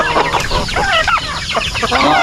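Chickens and turkey chicks cluck and cheep close by in a rural coop, several birds calling over one another in quick, overlapping bursts.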